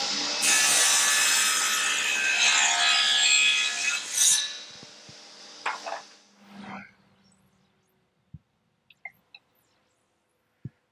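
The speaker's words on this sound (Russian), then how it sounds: "Бук, продольное пиление." Power saw fitted with a thin-kerf blade rip-cutting beech wood about 4–5 cm thick, a loud, steady sawing whine lasting several seconds before it winds down, followed by a few faint clicks and knocks.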